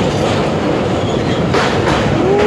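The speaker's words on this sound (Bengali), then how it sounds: "তো আমাদের কিন্তু ট্রেন ছেড়ে দিয়েছে" A moving train crosses a river bridge on a trip out of Cuttack toward Keonjhar, with loud, steady rumbling and rhythmic clattering heard from on board and a brief faint wheel squeal near the end.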